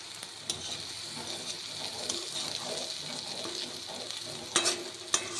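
Onion and garlic frying with a little salt in a pan, a steady sizzle broken by scraping stirs and a couple of sharper clatters near the end.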